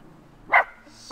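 A young puppy gives a single short, sharp bark, close and fairly loud, against a quiet background.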